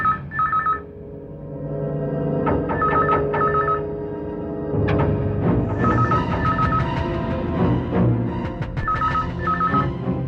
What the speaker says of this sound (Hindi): एक मिनट, मैं पुलिस को फोन करता हूँ।